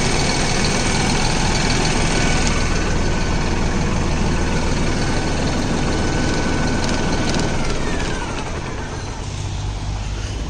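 A new Deutz Fahr Agrolux 70e 4WD CRDi tractor engine runs at steady speed with a loud, continuous diesel rumble and a high turbo whine layered over it, close by and without talk.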